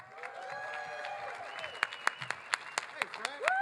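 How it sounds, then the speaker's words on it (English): Crowd applause welcoming the KMOX Sports Cardinals MC at the Cardinals Caravan fan event, steady clapping throughout with several sharp louder claps standing out near the end, and people talking and cheering over it. "Please give a big round of applause and a warm welcome to KMOX Sports Cardinals MC,"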